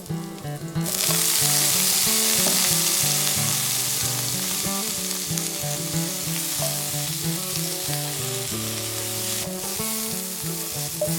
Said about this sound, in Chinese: 再倒入焯过水的鸭肉一起翻炒。